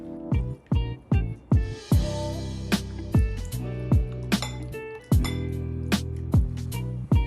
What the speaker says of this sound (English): So what we're gonna do is mix these ingredients together.